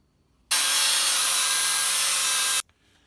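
Wood being trimmed in the corners with a power tool: one steady, loud, rasping burst of about two seconds, close by, with quiet before and after and no talk.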